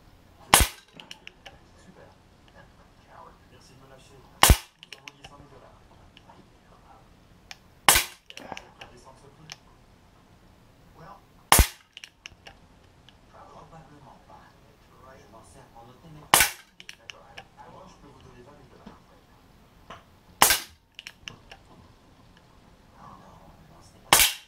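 Artemis CP400 air pistol, double action, firing H&N pellets: seven sharp, loud cracks spaced a few seconds apart, each standing out sharply over low room noise.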